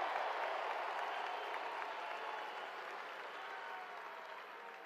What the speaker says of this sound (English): So I want to give our staff a tremendous round of applause for how much they sacrifice.